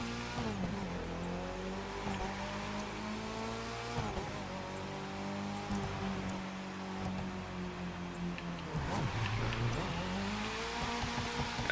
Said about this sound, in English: I hit the brakes way too hard on that one.